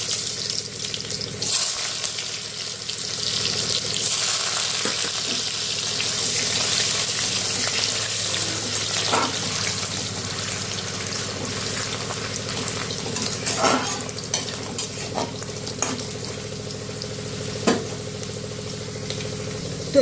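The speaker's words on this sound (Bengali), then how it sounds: "তো ছেড়ে দেব আলু।" Potatoes fry in hot oil over tempered spices for a turnip ghonto curry, giving a continuous close sizzle with scattered light clinks and stirring taps throughout.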